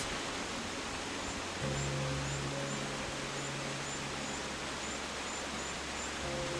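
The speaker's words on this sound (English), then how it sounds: "you can hear the tinkling, gushing sounds of the waterfall in the background" Steady rushing water fills the space, a constant broad gush with a faint low hum underneath.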